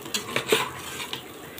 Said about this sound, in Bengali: এবার চাউলটাকে সুন্দর করে ভেজে নেব।